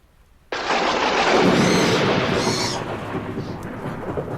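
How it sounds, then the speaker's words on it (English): Storm sound effect in a radio drama about a ghost train: a sudden loud thunderclap bursts in and rolls on as a long, heavy rumble with rain-like hiss, slowly fading, with no speech over it. "That storm's getting worse."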